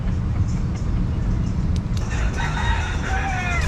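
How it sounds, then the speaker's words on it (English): A rooster crows in the distance in Miami over a rumbling engine hum, its call rising and stretching out near the end. "Oh, that one's a rooster."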